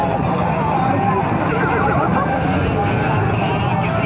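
A mare at a horse market in Ameen Pur, Faisalabad, whinnies and clops along close by, with hoof steps and neighing over steady crowd babble and people talking throughout.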